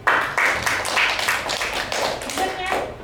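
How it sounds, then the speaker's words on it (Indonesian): A classroom of students claps together in a quick, rhythmic patterned beat, about ten sharp claps in a row, loud and close, with faint voices underneath. "Tepuk tangan."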